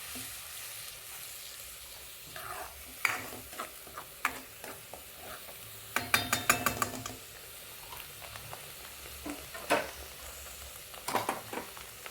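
A coriander dumpling mixture sautéed in a pan, a faint low sizzle broken by scattered sharp scrapes and clinks of a spatula, with a cluster of quick stirring taps in the middle.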